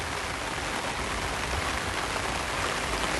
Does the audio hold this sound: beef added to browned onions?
no